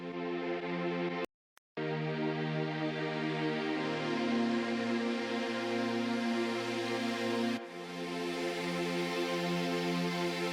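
Sustained string samples from a Nord Stage piano play a warm, layered chord pad, briefly cut out near the start, then swelling and shifting chords continuing steadily without talk.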